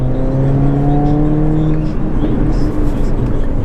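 Mercedes A45 AMG with its exhaust resonator removed, accelerating hard, heard from inside the car: a loud, steady engine drone with rising harmonics that climb for about two seconds and then break into rougher roar, continuous throughout.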